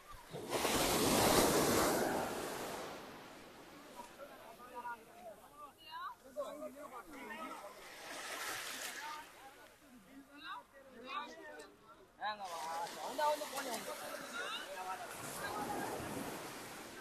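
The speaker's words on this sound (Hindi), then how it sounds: "और ये है भाई समुद्र, समुद्र के किनारे आ गए" Ocean surf breaks on the shore near the Somnath temple coast in Gujarat in broad hissing washes that come and go, mixed with wind buffeting the microphone, while people talk excitedly over it.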